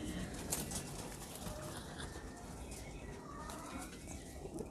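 Soft, low coos of a Kasoori pigeon pair murmur against a noisy background, with faint rustling and a little distant chatter.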